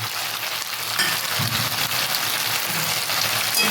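A fish head sizzling in hot oil in a pan along with green chillies and fried potatoes, a dense, loud, continuous crackle and hiss throughout with no talking.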